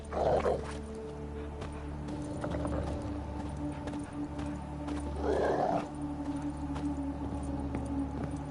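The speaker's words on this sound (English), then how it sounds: "Just beware of the dogs" Dogs barking in The Witcher 3, a couple of short bursts of barking over horse hooves clip-clopping, a whinny, and a steady ambient game drone, with no voices.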